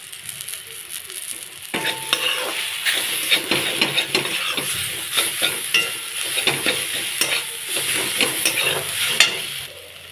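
Ground coriander and cumin spices fry in a pan during a prawn and arum curry, with steady sizzling and repeated scraping, stirring clinks of a utensil against the pan from about two seconds on, close and continuous.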